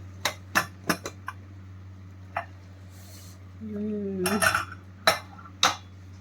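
A pressure cooker holding freshly cooked khuska rice is opened, giving sharp metallic clanks of the lid and pot, a brief scraping squeal, and a few more knocks, close and loud in a kitchen.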